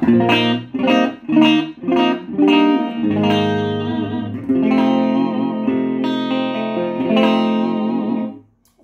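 Electric guitar through a Boss ME-70 multi-effects unit into a 50-watt Laney amp with reverb off, playing several short distorted chord stabs and then longer sustained ringing notes, loud and close.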